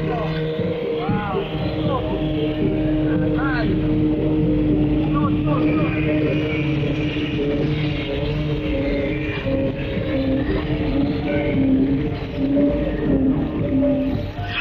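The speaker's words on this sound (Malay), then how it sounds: "Walaupun lumba bot laju menawan minat," Speedboats racing at the Gawai Dayak water festival in Sarawak in 1971 give a continuous engine drone with a rising whine. It plays steadily throughout under someone narrating.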